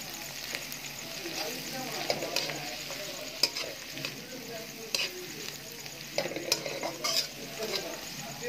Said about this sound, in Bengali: দিয়ে হালকা করে ভেজে নেবে সবজিগুলো